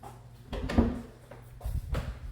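Double cupboard doors in a home's white cabinetry being opened, a few close wooden clunks and soft knocks with a brief pause between them.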